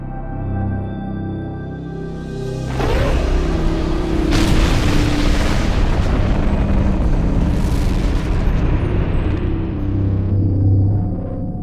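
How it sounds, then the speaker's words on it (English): A massive nuclear explosion of a star, rendered as a deep, loud roaring boom that swells suddenly out of a low drone and rumbles on for several seconds before slowly fading. "The extra mass can make the star unstable, leading to a massive nuclear explosion."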